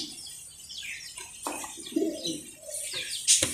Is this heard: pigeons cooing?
yes